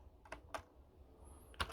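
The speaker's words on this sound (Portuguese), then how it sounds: "Tá apanhando do teclado." A computer keyboard is typed on in a few sparse, separate clicks, with one sharper stroke near the end, close but quiet against a faint background hum.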